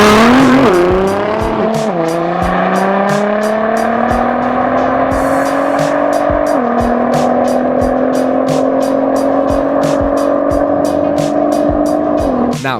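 A Melrose Nissan 2017 Alpha 6 built by NXGEN drives hard at a private event, its engine note rising and dropping through gear changes over a steady roar, with repeated sharp clicks or ticks throughout.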